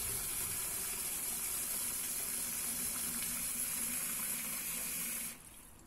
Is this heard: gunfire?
no